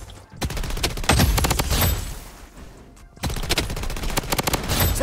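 Rapid automatic fire from a KAG-6 rifle with a Dynamite skin in a shooter game: two loud, sustained bursts of closely spaced shots separated by a short pause.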